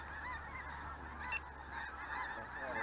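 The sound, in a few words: flock of birds arriving, honking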